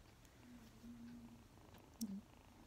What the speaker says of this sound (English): She's still purring.